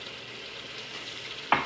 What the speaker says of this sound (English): we're gonna let those sear